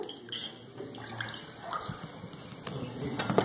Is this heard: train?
no